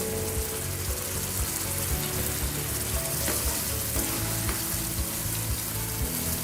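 Chicken roast with ghee, rose water and sugar is stirred in a hot pan, giving a loud, continuous close sizzle with scattered crackles and soft stirring scrapes throughout.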